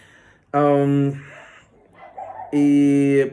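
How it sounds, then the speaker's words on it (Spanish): Dogs barking excitedly nearby at passing dogs, two long harsh howling barks separated by a short gap of quieter yips, loud and close. "Perdón por los perros, pero bueno, se alocan cuando pasan otros perritos por aquí."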